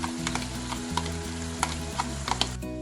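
Mutton karahi sizzling and frying in a pan after yogurt and cream are added, a steady bubbling sizzle with light stirring scrapes and clinks recurring every half second or so.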